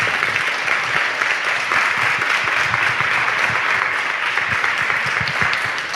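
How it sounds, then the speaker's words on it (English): An audience gives a steady, dense round of applause, many hands clapping evenly and fairly close for the full stretch with no speech over it. "let's give Ian a round of applause here"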